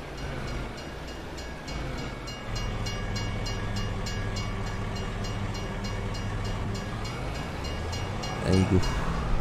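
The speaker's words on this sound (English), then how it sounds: "puis c'est décidément encore le train." A train in the Farming Simulator 22 video game passes by with a steady low rumble and rhythmic wheel clatter, swelling louder near the end with a brief horn-like burst.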